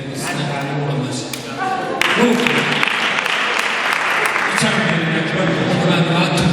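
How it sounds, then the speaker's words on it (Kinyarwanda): A wedding reception crowd breaks into sustained clapping that swells louder partway through, while a speaker's voice carries over the applause. "ndabivuze amashyi"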